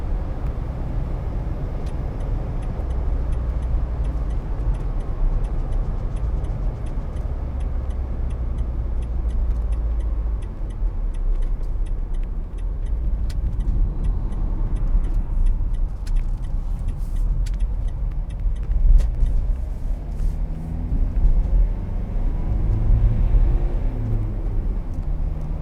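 Steady engine drone and road rumble from a Vauxhall Vivaro 2.0 CDTi Sportive van on the move, heard from inside the cab, with continuous low tyre noise and faint ticks and rattles, no talking.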